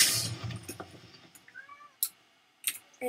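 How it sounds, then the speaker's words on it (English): A pet cat meows nearby in a couple of short, rising calls, fairly faint amid sharp clicks and small knocks from a room where a Minecraft game is being played. "And now my cat's coming"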